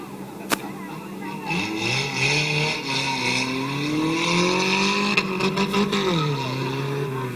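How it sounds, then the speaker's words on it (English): Mini trucks in a green-flag feature race at Midvale Speedway, engines revving loud and continuous, pitches rising and falling as several trucks accelerate together, with a sharp click near the start. "We're off and green flag racing for the mini truck feature."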